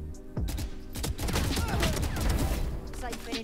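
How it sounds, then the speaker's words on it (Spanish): Gunfire in a Valorant deathmatch rattles out in quick, close bursts of shots that overlap into a dense volley across the clip. "Disparos."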